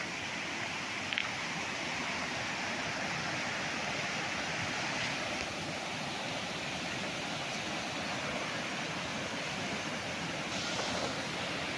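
Steady rushing river water flows continuously past a farm lot in Siniloan, Laguna, a broad even wash of noise with no breaks, close and moderately loud.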